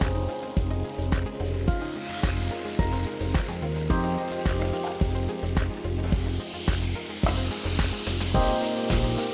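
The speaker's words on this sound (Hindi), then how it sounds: "इसी पैन में टमाटो के वेजेस को मैं हल्का सा फ्राई कर दूँगी।" Tomato wedges fry in a pan still greasy from cooked sausages, giving a continuous crackling sizzle. A rhythmic backing track with a steady beat plays underneath.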